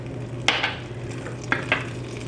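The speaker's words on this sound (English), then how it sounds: "Now I will add the asafoetida or hing, the green chilies," Asafoetida and green chilies fry with dal in a pan for semiya upma, giving a soft, steady sizzle broken by two sharp utensil clinks and scrapes, with no talking.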